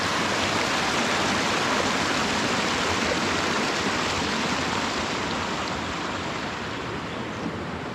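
Baker Creek, a mountain creek in Great Basin National Park, Nevada, rushes in a constant, dense, close-up wash with no voices.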